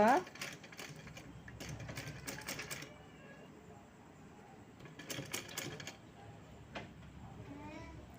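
A sewing machine stitching a small girl's dress in short bursts of quick mechanical clatter with quieter pauses between, while a voice talks over it.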